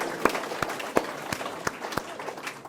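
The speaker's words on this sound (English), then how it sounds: "let's give Rich a round of applause for that great share." Applause after a talk at a sobriety speaker meeting: sparse, distinct claps ring out at a slow, uneven rhythm over a soft murmur of more scattered clapping, fairly close.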